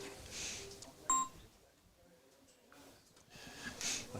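A mobile phone gives a short, sharp electronic beep near the middle, then a faint second tone later, over quiet room noise and soft breathing.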